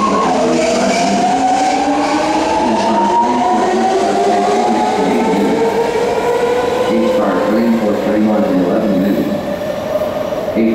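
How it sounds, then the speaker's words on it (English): A BART train approaches the platform with a loud, close rumble and rising, gliding metallic wheel squeals that sweep upward and downward in pitch across the whole stretch, with faint station chatter beneath. "train now approaching platform two"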